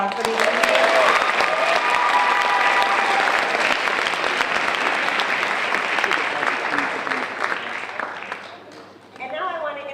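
Audience applause at a Martin Luther King Jr. sophomore speech celebration, sustained and loud from the start, slowly thinning toward the end before a voice speaks briefly.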